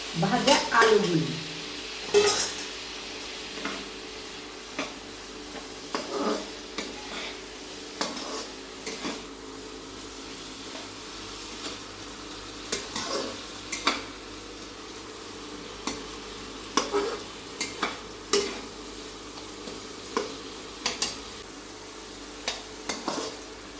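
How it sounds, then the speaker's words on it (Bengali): Fried potatoes stirred into a cooked-down spice masala in a pan, with repeated spatula scrapes and clinks against the pot over a steady low sizzle, close and moderately loud. "মশলাটা কষানো হয়েছে, এর ভিতরে দিয়ে দেবো ভাজা আলুগুলি।"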